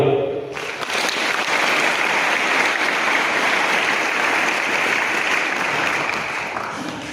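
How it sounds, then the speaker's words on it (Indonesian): A large audience at a legal-knowledge coach training event gives sustained applause for a guest speaker, a thick wash of clapping holding steady for several seconds after a brief voice at the start. "Tepuk tangan untuk beliau."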